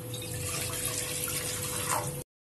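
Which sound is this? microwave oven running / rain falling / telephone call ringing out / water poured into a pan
water poured into a pan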